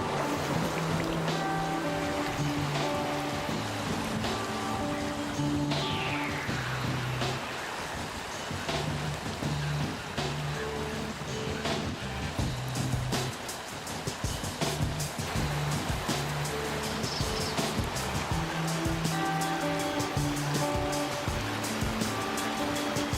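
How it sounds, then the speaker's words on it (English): A canoe runs whitewater rapids on a river, with a steady, loud rush of churning water throughout and occasional splashes and knocks over a low continuous roar. "the challenge of whitewater."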